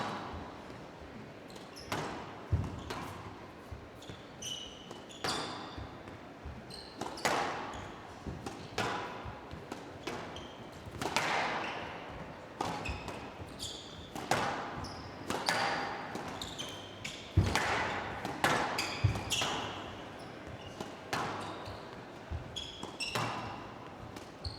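A squash rally between ElShorbagy and Gaultier at the 2017 Tournament of Champions, the ball striking the front wall and court in a steady back-and-forth of sharp thwacks and squeaks, with a crowd murmuring faintly underneath.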